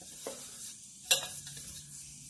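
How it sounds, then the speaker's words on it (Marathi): Spoon stirring a mithai sweet mixture made without a gas flame, a soft scraping texture with a brief sharper clink or scrape partway through, close and fairly quiet. "आता हे चांगलं मिश्रण हलवून घ्यायचं।"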